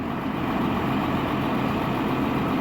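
A big farm tractor idles steadily while it fuels up before tillage work, a continuous deep diesel drone at even volume and close by, with no voices.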